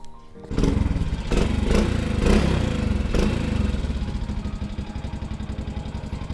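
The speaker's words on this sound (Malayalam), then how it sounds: "ഓക്കെ അപ്പോൾ ഈ ഒരു വണ്ടിയുടെ സൗണ്ടാണ് നിങ്ങളിപ്പോൾ കേട്ടുകൊണ്ടിരിക്കുന്നത്" A Hero Honda Splendor motorcycle engine starts after a brief quiet moment, then runs close by with a steady, even idle throughout. No one speaks.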